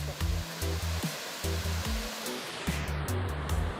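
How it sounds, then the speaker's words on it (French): Montezuma waterfall in Costa Rica roaring close by, a dense steady rush of falling water that holds constant throughout, with low thumping bursts underneath. "On arrive à la cascade de Montezuma"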